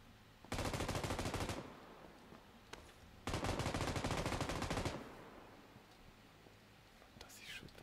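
Two long bursts of rapid automatic gunfire in a shooter video game, each lasting over a second, dense and rattling, followed by quieter ambient game noise and a faint distant shot.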